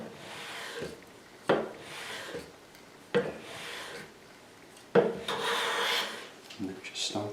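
Hand plane cutting a piece of pitch pine held in a vise, with three or four close, rasping strokes. Each stroke starts with a sharp attack and trails off into a shaving hiss, and the last stroke is longer.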